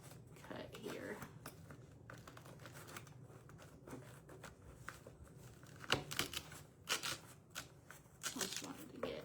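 Artificial flower stems are snipped and rustled close up while recycling a can into a floral craft, with crisp cutting clicks and crinkling handling noises clustered in bursts, under quiet talk.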